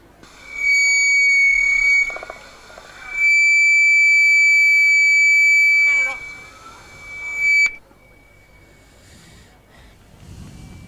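An electronic starter's signal at a state track and field championship hurdles and sprint session sounds as loud sustained buzzing tones in two long bursts and a shorter one, with a faint voice and crowd murmur in the background.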